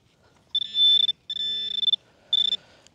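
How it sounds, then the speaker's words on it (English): Metal detector beeping during a rally detecting session, three sustained electronic tones, the first two long and the last shorter, loud and close with no talk over them. "We had a beep there."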